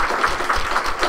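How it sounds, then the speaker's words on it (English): An audience at an inaugural members meeting applauds the planning committee with a steady wash of many hands clapping, moderately loud and even, with no voices on top. "We can actually give the planning committee an applause."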